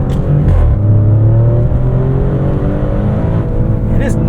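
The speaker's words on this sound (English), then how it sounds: "So I think we're just gonna do a regular launch up here. We'll put it into Corsa mode." A 2023 Maserati Grecale Trofeo launches hard in Corsa mode, its engine note loud and close, rising in a steady climbing drone through the whole stretch.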